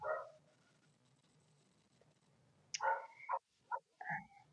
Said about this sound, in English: I've got to tell this dog to hush now.